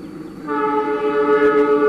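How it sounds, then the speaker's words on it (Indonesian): Argo Wilis passenger train from Bandung to Surabaya Gubeng passes Warung Bandrek station on a curve, a loud sustained horn blast rising over rolling rail rumble, close by. "ini kereta api Argo Wilis"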